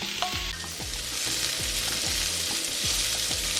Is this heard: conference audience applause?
no